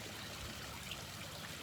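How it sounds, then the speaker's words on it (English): Garden waterfall in the Philippines running steadily, a constant broad wash of flowing water, moderately close, with no voices. "they got the waterfall going"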